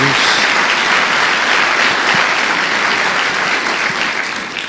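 Strong, sustained applause from a church congregation praising God during a sermon, dense and even throughout before tapering slightly at the close.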